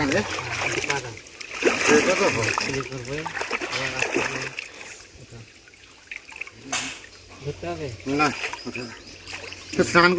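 Water splashes and drips as someone bathes in a village pond, with intermittent splashing beneath almost continuous close conversation between people.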